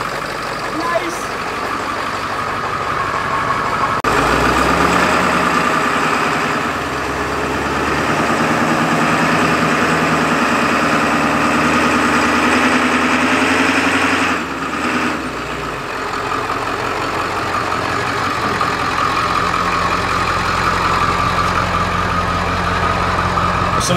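A dusty 1968 Camaro's engine idles steadily after a 50-amp jump start, a loud continuous low rumble that carries on for most of the stretch while voices talk over it.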